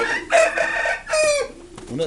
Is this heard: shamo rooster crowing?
yes